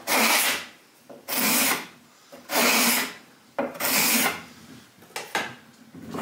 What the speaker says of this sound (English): That's part of what the sanding is going to do